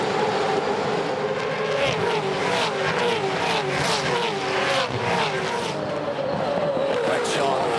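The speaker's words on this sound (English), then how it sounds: "Sweet sound of supercars lining up on the pit straight at Adelaide." Supercars race cars roar along the pit straight at Adelaide during the bp Adelaide Grand Final, a loud, continuous engine drone with rising and falling passes and a commentator talking over it.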